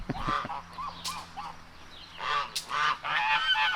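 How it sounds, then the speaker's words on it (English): A mother duck with her ducklings calls out on a farm, with repeated loud, nasal honking and quacking notes in several close bursts and the low murmur of the surroundings underneath. "And one of our ducks with her ducklings."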